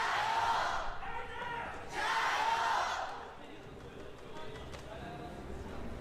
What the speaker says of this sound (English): Oh, that's a loud chant.